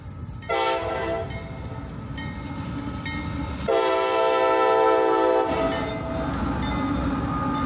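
A northbound CSX freight coil train rumbles past close by, with two long, loud horn blasts over the steady roar of the rolling cars.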